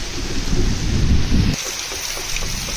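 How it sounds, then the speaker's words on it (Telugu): Heavy rain pours down with a dense, close roar that carries a deep rumble of thunder at first, then thins to a steadier hiss of falling water. "అరే హెవీ రెయిన్ అవుతుంది."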